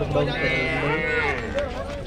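Cows moo over the chatter of a crowded cattle market in Erragadda, a drawn-out lowing call standing out amid the background voices.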